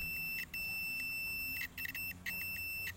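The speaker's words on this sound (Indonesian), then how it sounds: "Ini nanti buzzernya kalau bunyi berarti dia bagus kan" Continuity tester buzzer sounding while probing the carbon brushes of a starter motor from a Komatsu D85SS dozer, a thin steady high-pitched tone that cuts in and out in several short interruptions, fairly quiet and without speech.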